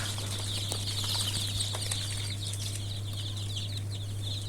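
Young desi (local) chicken chicks in a brooder chirp constantly in a high busy chorus while scratching and shuffling about, heard up close over a steady low electrical hum.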